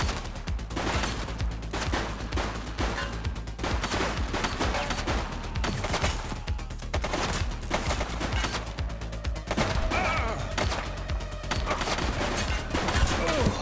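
Dense, continuous gunfire from the police video game The Precinct, rapid overlapping shots and automatic bursts sustained loudly throughout with no pauses.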